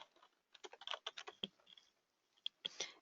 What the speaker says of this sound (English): and then type in the name field. We're going to type student